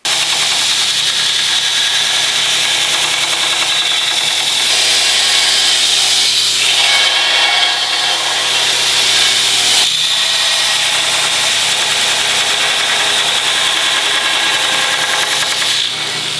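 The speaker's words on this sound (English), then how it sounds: "grind it smooth, or in this case, sand it smooth" A belt sander smooths a cut-out steel flint striker with a loud, continuous abrasive whine and grinding hiss, steady for the whole stretch with slight shifts in pressure.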